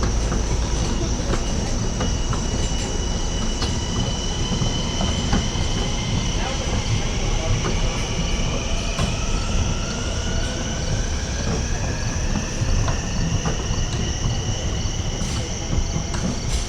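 A Long Island Rail Road commuter train on the Port Jefferson Branch rolls past during the evening rush hour, a steady rumble of wheels and railcars with faint squeals and clicks throughout, fairly loud and continuous.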